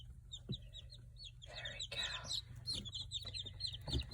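Baby chicks, including Silkie chicks, chirp in repeated high-pitched peeps, close and steady over a low background hum, with a few soft clucks.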